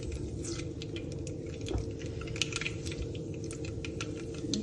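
Oil crackles and pops in a hot pan over a gas flame, with irregular sharp spits and ticks above a low steady background rumble.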